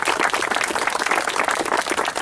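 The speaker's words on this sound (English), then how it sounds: "Join me in giving her a round of applause." Audience applause at the dedication ceremony for Patriots Landing, a dense, steady burst of many hands clapping, loud and close, for a couple of seconds.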